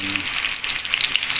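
Onions sizzle steadily in a hot frying pan, a dense, even crackle with no pauses and no voices over it.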